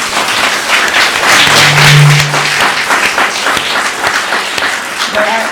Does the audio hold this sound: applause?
yes